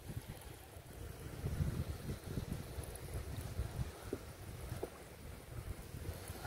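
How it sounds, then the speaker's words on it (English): Strong wind buffets the microphone beside a backyard pond during bass fishing, a steady low rumbling roar with gusty surges and faint water movement throughout, no voices. "Right now the wind is really getting bad."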